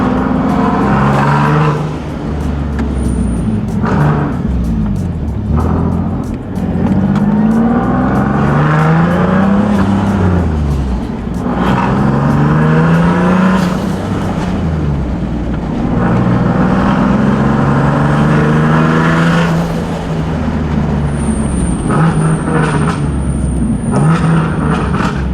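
Turbocharged Nissan 370Z with a boost leak, its engine running and revving in repeated rising and falling pulls, loud and close, with faint high hissing near the end.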